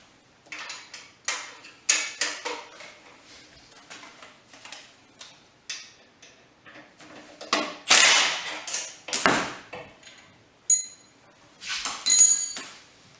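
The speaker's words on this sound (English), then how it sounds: "I use a 13/16 hex and a 1/2 inch wrench to take off the belt guard" A hex socket and wrench taking off a motorcycle belt guard, a series of sharp metallic ratcheting clicks and clinks in irregular bursts, close up, with a few louder knocks.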